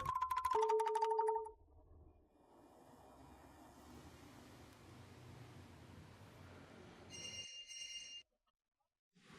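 A phone tone rings over a call in a busy public place, a short repeating electronic ring at the start, followed by a quieter hiss of background noise and a brief high beep before silence.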